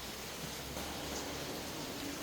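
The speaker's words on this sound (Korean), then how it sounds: "지금도 비가 계속 이렇게 오고 있는데 곱게 옵니다." Steady, gentle rain falls outdoors in a soft, even hiss that runs without a break for a couple of seconds, with no voices over it.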